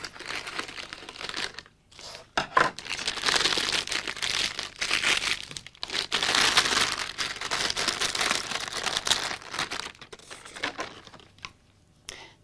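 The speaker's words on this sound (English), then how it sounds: "snip off the end of the bag" Plastic bag around a toner cartridge crinkling and rustling as it is handled and snipped open with scissors, a steady close crackle of thin plastic lasting several seconds with brief pauses, no voices.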